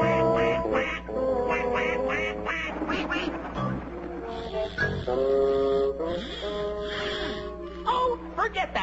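Cartoon duck quacking in a Tom and Jerry episode, a rapid run of loud, nasal quacks in bursts with short gaps, mixed with snorts and other vocal squawks.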